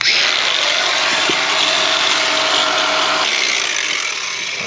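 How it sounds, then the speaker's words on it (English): Cutoff wheel grinding through a brake hose bracket on a 2007-2013 Chevy Silverado front end, a harsh, loud continuous high-pitched abrasive whine that eases slightly toward the end as the tool bogs. "we'll just cut it off with the cutoff wheel"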